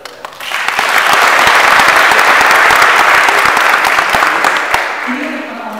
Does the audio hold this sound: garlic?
no